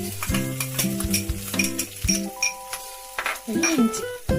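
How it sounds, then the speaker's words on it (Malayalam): Garlic sizzles in hot oil with popped mustard seeds for a Kerala-style chicken liver roast, a steady close frying hiss with stirring under a loud chiming melody. "കടുക് പൊട്ടിക്കഴിഞ്ഞ് ഇനി നമുക്കിതിലേക്ക് വെളുത്തുള്ളി ചേർക്കാം."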